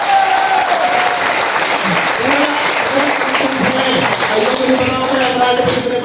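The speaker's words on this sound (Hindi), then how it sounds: "ये कलाकारी जगदीश जी के एक जोरदार ताली दीजिए।" Loud applause rises from an audience at a technical training event in Faridabad, dense continuous clapping with a crowd murmur, and voices faintly mixed in beneath it.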